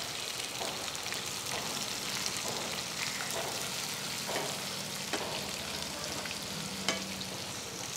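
Onions and green chillies fry in a pan with a steady, close sizzle, with occasional stirring scrapes and light pops throughout, and no talk.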